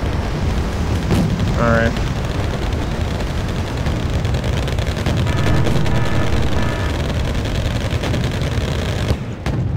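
Artillery bombardment and gunfire rumble through a Wargame: Red Dragon battle, with dense booming blasts and rattling fire running throughout. A player says a word over the din.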